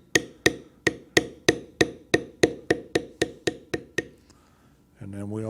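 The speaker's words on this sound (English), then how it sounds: "we will now continue beveling" A beveling tool is struck against carved leather in a deer-head carving, giving about fourteen sharp, evenly spaced taps at a steady quick rhythm, close and loud. A voice follows after a brief pause.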